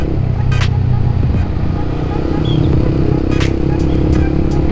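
A motorcycle fitted with a Proliner aftermarket exhaust runs at low RPM, giving a steady, loud, deep rumble throughout, with a few brief higher-pitched sounds above it.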